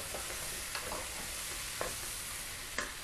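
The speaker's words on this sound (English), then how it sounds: "And once it cooks, let's fry that off." Pork cheeks frying with pumpkin in a pan, a quiet continuous sizzle with a few sharp clicks of stirring, no talk.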